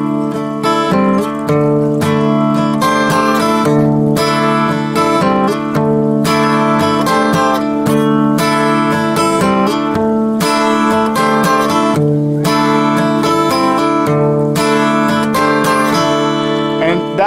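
Acoustic guitar strumming a chord pattern, a steady rhythmic strum with bright, ringing chords played close and alone.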